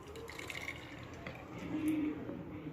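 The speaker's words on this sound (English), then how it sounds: "to pour this in this jar" Homemade aloe vera gel pours into a jar in a kitchen with a soft, continuous trickle and a few drips, fairly quiet and steady, louder near the end.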